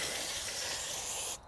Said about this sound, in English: you just get the spray marker paint